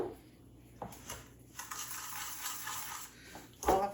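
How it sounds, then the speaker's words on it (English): Brown sugar, vanilla, oil and eggs being whisked together in a bowl for chocolate zucchini bread, a quiet, close stretch of steady swishing between a few light clinks, with a louder knock at the end and no voices. "And then we're just going to whisk that together."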